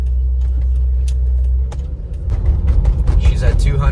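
A 2002 Land Rover Discovery 2 drives along a road, its engine and road noise a steady loud rumble inside the cabin that grows rougher and busier partway through, with a person speaking over it.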